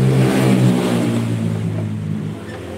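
A Honda Supra motorcycle's engine revs loudly, a rough buzzing drone that swells near the start and then slowly fades, with no voices.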